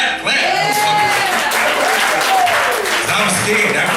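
Audience applause and cheering at a stand-up comedy open mic show, loud sustained clapping with whoops from the crowd while a performer talks over it.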